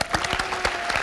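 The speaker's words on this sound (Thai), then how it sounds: "ผมขอเสียงปรบมือ" A studio audience at a Thai television game show breaks into a short, dense burst of clapping, close and lively, with no talk over it.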